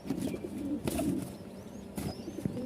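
Racer and Lahori pigeons coo in low, throaty repeated calls close by, with a brief rustle or flutter of wings between the calls.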